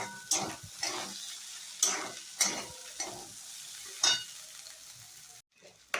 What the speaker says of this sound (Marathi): बटाटा परतल्यानंतर आता हे रताळं हे टाकून चांगलं परतून घ्यायचं आहे.